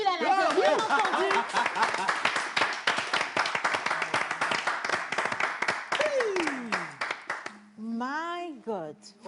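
A live studio audience breaks into dense, sustained clapping for about seven seconds. The applause then stops abruptly, and voices talk and exclaim at the close.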